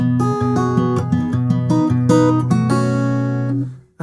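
Acoustic guitar playing a passage of a song with pull-offs: clear plucked notes ringing out in a steady, moderately quick sequence, alone and close, before the last chord fades.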